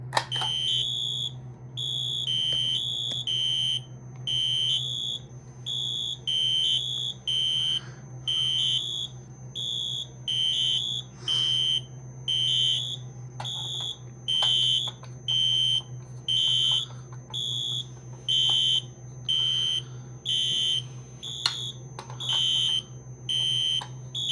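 A fire alarm blares in loud, regular pulsing bursts of high beeping, repeating steadily over a low electrical hum.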